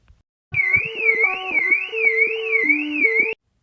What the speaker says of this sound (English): if you hear the siren or car alarm, you're kind of already cooked